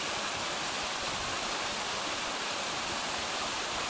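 Cold waterfall jets at Mitsumine Shrine in Japan pour down in a steady, loud, full-band rush of falling water, continuous and unbroken with no voices present.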